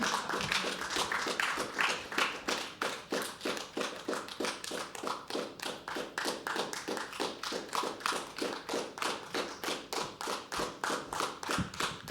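Poetry open mic audience at The Habitat keeping up rhythmic unison clapping, a steady beat of sharp claps repeating about twice a second, moderately faint, with no talk over it.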